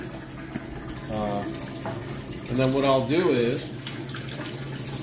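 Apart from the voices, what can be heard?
water filling the scalder tank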